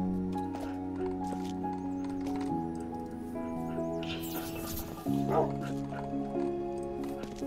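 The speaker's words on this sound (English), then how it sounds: "I've got all my dogs on the lead." Dogs in a Roblox fantasy game bark and yip repeatedly over a droning music bed, with short whimpering yelps scattered across the stretch and a louder burst near the end.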